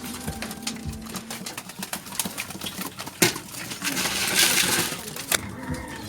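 Pigeons in a loft coo and shuffle close by, with scattered wing flaps, scratching and clattering among the birds. The sounds are irregular and bright.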